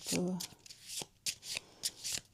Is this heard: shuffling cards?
yes